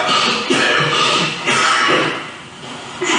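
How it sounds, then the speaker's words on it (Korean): Several short coughs, close and fairly loud, spaced out across a few seconds with brief pauses between them. "누가 기침 소리를 내는 거 아니야?"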